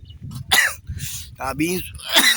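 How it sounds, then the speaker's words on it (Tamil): A woman coughs and clears her throat in short bursts, close to the microphone, with other voices talking around her outdoors on farmland. "எனக்கு சரியான இருமல்"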